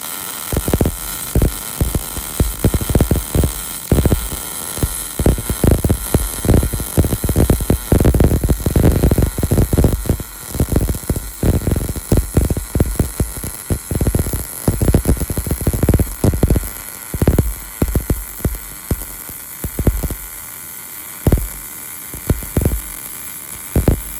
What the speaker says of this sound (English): So now it's just a bunch of welding.